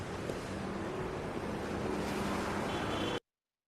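Ocean waves played as a beach sound effect from a sound button: a steady, loud broadband wash of surf that runs unbroken for about three seconds and then cuts off abruptly.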